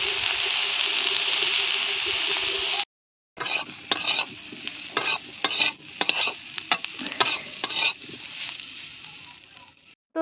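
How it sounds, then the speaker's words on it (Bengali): Eggplant slices fry in a pan with a loud steady sizzle, cut off abruptly, then resume under a run of sharp spatula scrapes and clatters against the pan. "আর সাথে সাথে আমি ভেজে নিচ্ছি"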